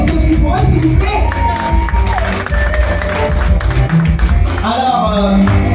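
A crowd at a stand-up comedy evening claps and cheers in a dense, sustained wash of applause, mixed with shouting voices and some talking.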